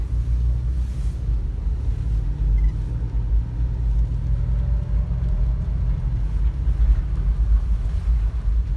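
A 1989 Mitsubishi Montero, abandoned for 12 years, drives in the rain with a steady low engine and road rumble that stays even and close for the whole stretch.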